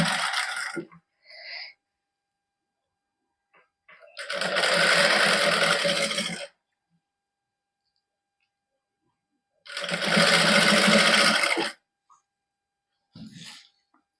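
Sewing machine stitching a sleeve to lengthen it, running in two steady bursts of about two seconds each, close and loud, with brief clicks and short handling noises between them.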